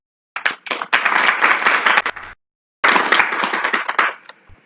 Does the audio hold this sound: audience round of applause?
yes